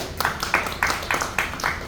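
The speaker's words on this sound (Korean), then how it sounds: "여기까지 박수 한번 주세요." Rhythmic clapping from a crowd at a street rally before a car parade in Busan, about six evenly spaced claps over two seconds, fairly close, with no speech.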